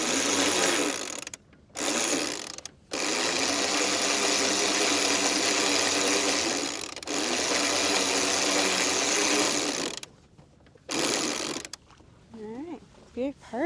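A jib sail unfurling on a performance catamaran under way on a broad reach, a long loud mechanical whirring with a steady rhythm that stops and restarts several times, ending in scattered softer clicks.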